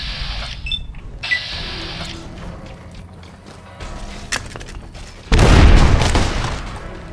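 A frag grenade explodes in Fallout: New Vegas at the South Vegas ruins: a loud, close, deep blast near the end, after quieter clicks and game sounds.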